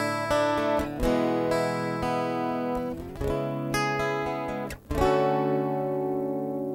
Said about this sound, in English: Just gonna turn it to the chorus effect, and it sounds like this.